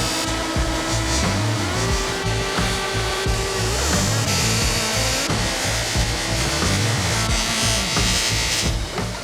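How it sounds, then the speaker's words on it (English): Zinc-coated steel bolts are buffed against a spinning polishing wheel, giving a loud, continuous grinding and rubbing drone with a rough, pulsing texture throughout. "We're gonna see if we can polish these up to match the rest of the bolts"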